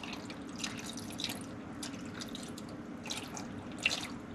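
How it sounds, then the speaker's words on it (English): A glass of water is poured into a pot of white perch paksiw with long pepper, giving soft, scattered splashing and dripping at low volume with no one talking. "Then we're gonna add some water, probably a glass of water."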